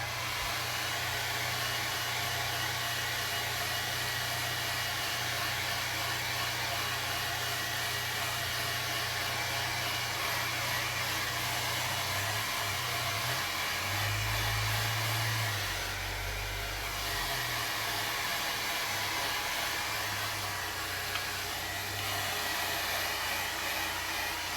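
A hair dryer runs without a break while drying a watercolor landscape painting, a loud, close, steady rushing of air with a low motor hum that shifts slightly midway, with no talk.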